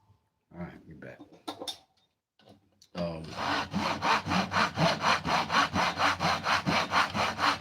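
A hand saw cuts through wood for a small box, with rapid, even push-pull strokes that repeat steadily after a few seconds of quiet handling and clicks.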